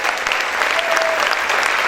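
A church congregation applauding loudly for the Lord, a thick, continuous roar of many hands clapping close and loud throughout, with faint cheering voices mixed in.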